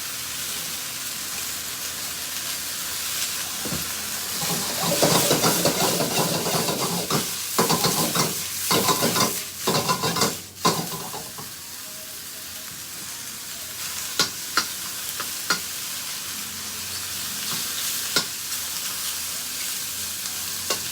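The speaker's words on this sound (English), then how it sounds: "As soon as I start cooking the sauce piquant" Sauce piquant frying and being stirred in a pan: loud continuous sizzling and hiss, broken by scraping stirs and brief clatters midway, then settling into a quieter sizzle with occasional sharp ticks.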